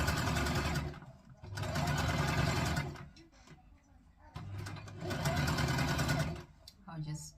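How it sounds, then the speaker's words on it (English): A sewing machine stitches the side seam of a drawstring skirt in two long, steady runs, with a short pause and some quieter handling between them. Each run is close and loud, and light speech sits underneath. "So this is the side seam I'm joining."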